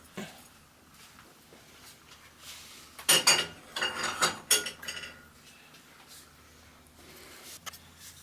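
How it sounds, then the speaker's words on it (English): Hot cross bun dough with melted margarine and yeast is stirred in a bowl: faint background for a few seconds, then a cluster of loud scraping, clinking strokes in the middle, fading back to near quiet with one last knock. "And we stir all of this together."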